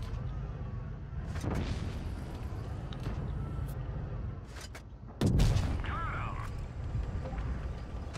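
A tank gun fires in World of Tanks Blitz: a sharp boom at about 5.3 seconds, with a fainter shot earlier near 1.5 seconds, over steady engine rumble and battle ambience.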